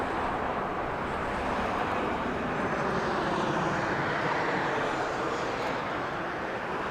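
A Southwest airliner departs Las Vegas Harry Reid International Airport, its jet engines producing a loud, continuous broadband roar that holds steady throughout, heard from a distance without any talking.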